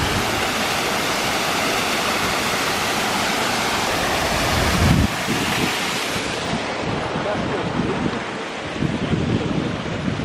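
A waterfall in Montreal's Botanical Garden in spring pours into its pool with a constant, dense, rushing roar. Some wind buffets the microphone, and the sound stays loud and unbroken with no voices.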